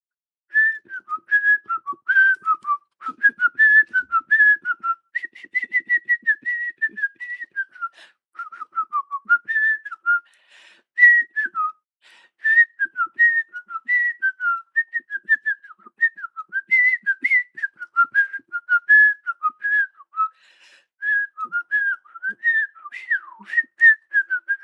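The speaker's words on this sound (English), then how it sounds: "can you guys hear me whistle?" A person whistles a long, wandering melody close to the mic, in clear, bright phrases broken by short breaths over about twenty-five seconds.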